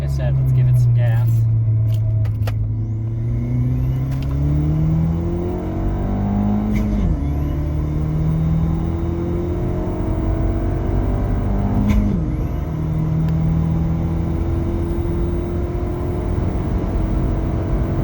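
Ford Fiesta ST fitted with a 2J-racing intake accelerating up a freeway entrance, heard from inside the cabin: a loud, steady engine drone climbs in pitch, drops twice at gear shifts, then pulls up again.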